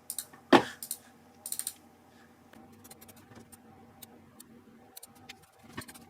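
Computer keyboard keys pressed during MIDI-to-sheet-music editing: a few sharp clicks near the start, then light scattered taps against a quiet background hum, with no talking.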